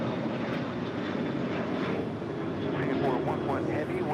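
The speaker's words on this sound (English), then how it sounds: "That was United Airlines flight 1595 heading to Seattle, Washington in that 737-800" A United Airlines Boeing 737-800 taking off at LAX, bound for Seattle, makes a steady, broad engine roar that holds fairly even throughout, with a voice talking over it.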